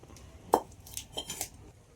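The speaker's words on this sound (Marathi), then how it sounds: "आता कढई आणखीन चुलीवर ठेवू" A metal kadai set down on a cooking stove gives one sharp clank, followed by a few lighter metallic clinks of utensils. The sounds are close and there is no talking.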